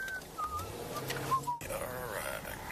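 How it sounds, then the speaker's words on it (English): A police officer whistles several short, high notes in quick succession, thin and tonal, over a busy outdoor background before the noise shifts abruptly. "No lights and sirens, just a whistle."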